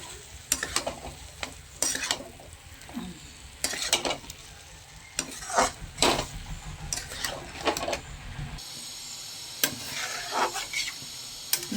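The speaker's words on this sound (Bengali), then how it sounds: "এবার আমি ডিমের সাথে আবার আলু আর মশলাগুলো কষিয়ে নেব।" Eggs being fried with potatoes and spices (ginger, garlic, onion paste, cumin, coriander) in a pan for an egg curry: repeated scraping stirs and clinks of a utensil over a continuous sizzle, close and moderately loud.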